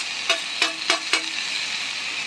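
Cucumber and tomato curry stirred in a pan, a low steady sizzle with three or four quick scraping spoon strokes close by, no voices.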